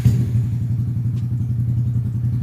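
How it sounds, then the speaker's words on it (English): A Honda Grom motorcycle engine idles steadily with a low, throbbing rumble and a slight mechanical clatter, close by and without speech. "let's hear the engine right quick"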